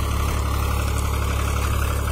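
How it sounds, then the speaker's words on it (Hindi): A Swaraj 735 FE tractor pulling a cultivator through a field, its diesel engine a steady loud low throbbing drone with even rhythmic pulsing, close by and without talk. "खिंचता हुआ चला जा रहा ट्रैक्टर, पीछे मुड़कर तो देखता ही नहीं वो"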